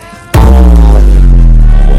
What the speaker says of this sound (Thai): ตอนนี้ไซตงานเกิดการระเบิดแล้วครับ